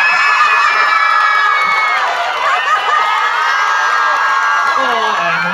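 Fans cheer and shout at a fan club grand opening at West Kowloon Centre in Hong Kong, a loud, sustained roar of high-pitched voices and whoops throughout.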